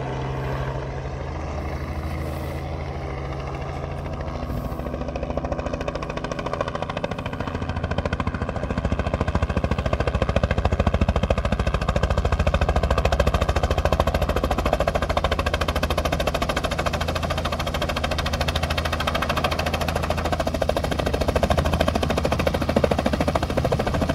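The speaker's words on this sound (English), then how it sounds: "the helicopter keeps buzzing us." A landing helicopter's loud, steady rotor thrum builds and holds close by, a low chopping roar that grows stronger midway and continues without letup.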